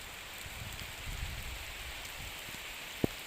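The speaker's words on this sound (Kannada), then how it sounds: "ಜೋರು ಮಳೆ ಬಂತು," Rain falls steadily in Mangalore, a dense, even hiss heard from a moderate distance, with one sharp tap near the end.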